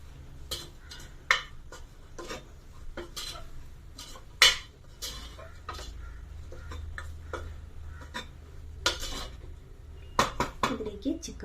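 A metal spoon stirring chilli powder into chicken curry in a pan, giving sharp scattered clinks and scrapes against the pan over a low sizzle, with occasional quiet talk.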